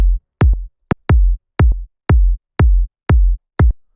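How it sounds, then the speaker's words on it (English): A punchy electronic afro house kick drum hits alone at a steady pace, nine booming thumps with short decays and silence between. "We're starting with the kick, which sounds like this in solo."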